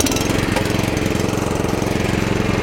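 A small petrol engine of a Rotadairon SD700 lawn seeder runs steadily at idle, its rapid even chugging loud and close throughout.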